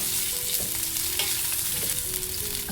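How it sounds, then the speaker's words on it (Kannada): Green chillies fry in oil in a pan, giving a close, continuous sizzle with stirring noises throughout and no talk. "ಇದಕ್ಕೇ ಮೆಣಸಿನ್ಕಾಯಿನ ಹಾಕ್ಕೊಳ್ತಾ ಇದ್ದೀನಿ ಇದನ್ನು ಕೂಡ ಫ್ರೈ ಮಾಡ್ಕೋಬೇಕು"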